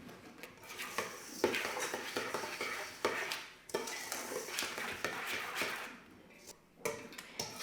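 Elk meatball ingredients are stirred and mashed in a bowl, with wet squelching, scraping and clinks of a utensil against the bowl, close and continuous without talk.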